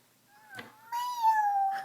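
A child imitates a cat with a drawn-out, rising and falling vocal meow, preceded by a brief sound, close and clear in a quiet room.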